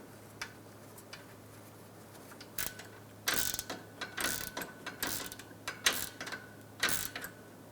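A ratchet clicks as it tightens a bolt on the radiator support of a 2007–2012 Nissan Altima, with bursts of rapid, close pawl ticks that come in short irregular runs, getting louder and busier midway, with no talking.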